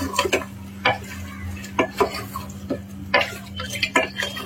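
A spoon stirs mutton and liver pieces into masala in a metal pot for mutton kulambu, with repeated scraping clinks and knocks against the pot over a faint sizzle and no speech.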